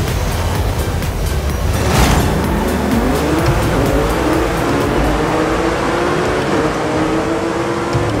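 Racing cars, including Lamborghinis, roar together in an online lobby race in Forza Horizon 5, engines loud and close with rising gear-shift pitches and a brief burst of noise as the pack launches.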